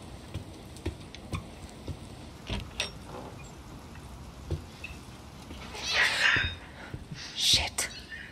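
A cat in the video game The Medium gives a couple of short mews late on, faint against quiet ambient ticking and soft whispery voice sounds.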